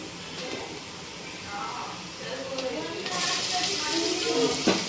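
Chopped onions frying in a pan until translucent for pav bhaji, a steady sizzle with stirring scrapes that grows louder toward the end, with a voice speaking over it.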